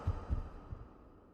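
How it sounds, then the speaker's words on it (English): Heartbeat effect from the Gabriel Knight adventure game: low, muffled double thumps repeating steadily over a soft humming background, with no talk. "Is that like the sound of his heart beating?"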